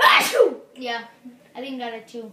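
One sharp, close sneeze bursts out at the start, followed by a person talking.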